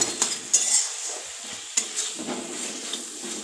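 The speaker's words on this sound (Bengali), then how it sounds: "খুন্তির সাহায্যে ভালো করে একটু নাড়াচাড়া করার পর" Spatula scraping and stirring banana flower curry in a pan, a few sharp clinks of utensil on metal among soft rustling stirs, close and fairly quiet.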